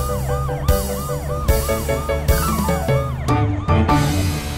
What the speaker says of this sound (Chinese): 超级汽车变身， 超雷达警车雷克